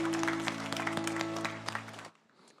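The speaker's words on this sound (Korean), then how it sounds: "우리 주님께 영광의 박수 올리겠습니다." A church congregation at a Sunday service claps together in a dense burst of hand claps over a sustained organ-like tone, then the clapping stops abruptly and leaves near silence.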